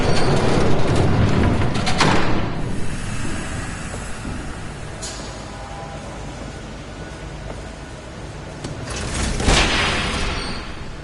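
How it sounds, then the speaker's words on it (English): A train rumbles past with heavy low roaring and clattering in an animated Batman series scene, loud at first, easing off, then swelling again near the end, with no speech. "There's a train coming."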